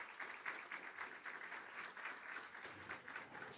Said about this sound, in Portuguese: vamos aplaudir nossa palestrante